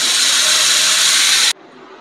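Watery ground chutney hits a hot tempering in a pan and sizzles in a loud, bright hiss for about a second and a half, then cuts off abruptly into a quiet simmer.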